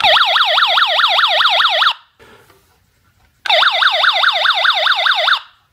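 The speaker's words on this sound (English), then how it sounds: "the button basically tests the speaker, not the actual sensors of the gases" Flammable gas and CO detector alarm triggered by its test button: a loud, close electronic siren warbling rapidly up and down in two bursts, separated by a brief pause.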